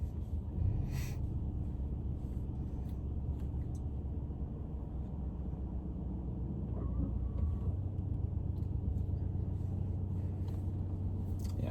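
A manual-transmission car pulls away from a stop. The low engine rumble holds steady with a slight rise in pitch near the end, heard from inside the cabin with a few faint clicks and no talking.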